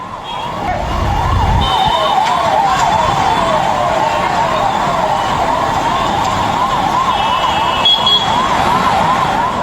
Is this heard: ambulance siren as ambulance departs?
yes